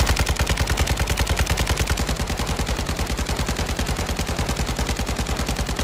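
Rapid sustained automatic bursts from an RPK light machine gun in Modern Warfare 2, loud, close and evenly rhythmic, a continuous stream of sharp shots with no talking.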